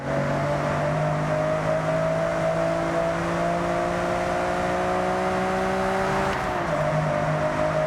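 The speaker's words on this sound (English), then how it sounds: "Let's hop into the stock Nissan GT-R R34 and give it a few revs." A stock Nissan GT-R R34 engine in the video game Forza Horizon 5 idles with a steady tonal drone, its pitch creeping slightly upward before dropping back, with no voices.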